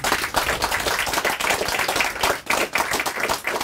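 Audience at a book launch event claps in dense, sustained applause, many hands close and loud for the whole stretch with slight dips in intensity.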